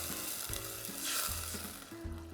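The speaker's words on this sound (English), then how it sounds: "I'm gonna kind of pour over my spoon first because it's gonna sizzle and pop a little bit." Apple cider vinegar hisses and sizzles in a hot pan with garlic while glazing baby back ribs, a steady close frying crackle with bursts of popping and low clatter, with no voices.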